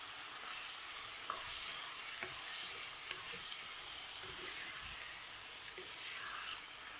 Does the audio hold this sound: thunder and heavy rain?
no